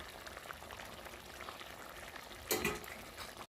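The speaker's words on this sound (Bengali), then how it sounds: "দিয়ে আর একটু ভালো করে এখন ফুটিয়ে নেব।" Tengra fish curry bubbles in a pan, a low steady simmering hiss with a brief louder burst of bubbling and liquid movement near the end, no voices.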